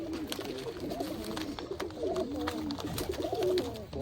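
Pigeons kept as pet birds coo softly and repeatedly, overlapping low warbling calls in a close, busy loft with faint rustling around them.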